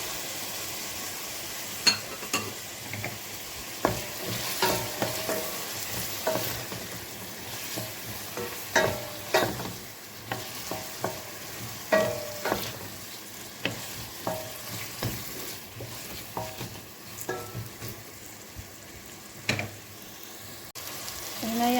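Potatoes and thin-sliced pepper fry in a pan with a soft steady sizzle, punctuated by repeated scraping strokes of a spoon stirring at an uneven rhythm, close and fairly quiet, no talking.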